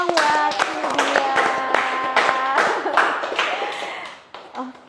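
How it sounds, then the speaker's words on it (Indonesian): Applause from a studio audience at an Indonesian talk show, many hands clapping together in a loud, steady burst that tails off near the end, with voices underneath. "Kasih tepuk tangan dulu dong buat dia."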